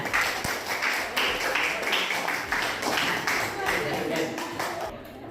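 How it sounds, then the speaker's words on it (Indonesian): A classroom full of students applauds together, with dense, steady clapping that is close and fairly loud, lasting a few seconds before fading out. "berikan tepuk tangan untuk kita semuanya"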